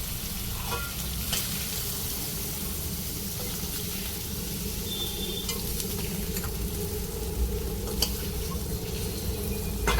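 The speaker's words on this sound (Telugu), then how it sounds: "పన్నీరు ఇలా కొద్దిగా వేయించుకుంటే సరిపోతుంది లేదంటే గట్టిగా అయిపోతుంది" Paneer cubes fry in a pan of hot oil for a paneer curry, giving a steady, fairly soft sizzle with a few faint clicks, heard alone without any talking.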